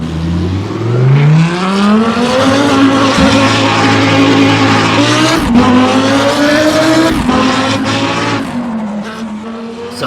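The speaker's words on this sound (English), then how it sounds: "So that was the fantastic sounding Lamborghini Huracan GT3" Lamborghini Huracan GT3 race car in the Assetto Corsa video game, loud and close, revving hard through rising gear pulls with sharp shifts and occasional tire squeal.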